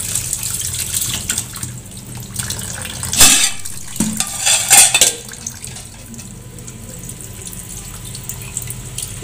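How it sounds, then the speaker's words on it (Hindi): Plums being rinsed in water in a home kitchen before being made into syrup, with running water from a tap and a few splashy handling bursts near the middle, close and fairly quiet, no talking. "इस तरह से हमने अच्छी तरह आलू बुखारे को धो लेना है, मिट्टी वगैरह ना रहे इस पर"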